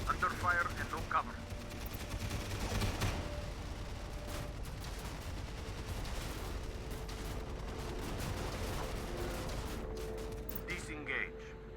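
Gunfire in the game Tom Clancy's EndWar, bursts of rifle and machine-gun fire crackling under radio-style voice chatter, with scattered sharper shots and a steady battlefield rumble.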